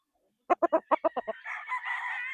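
A prize-winning gamefowl stag crows once up close and loud, the call opening in a run of short clipped notes and then stretching into a long, harsh, sustained cry, with no other sound around it.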